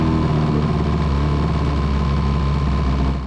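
A homemade jet-powered surfboard's engine given light throttle on the water, a loud, continuous low roar and whir holding steady throughout with no talk over it.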